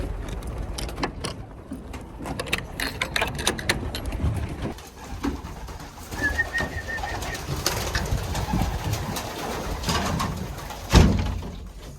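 Pigeons coo softly amid rustling and clattering close by, with traffic noise in the background.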